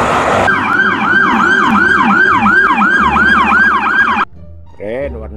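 A toy police truck's electronic siren wails loud and close in a steady, fast up-and-down cycle for about four seconds, then cuts off, leaving a brief quieter electronic tone.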